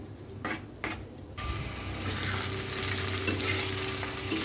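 Rohu fish roe is stirred and fried in oil, a few scraping strokes at first, then a loud, continuous close sizzle that holds steady.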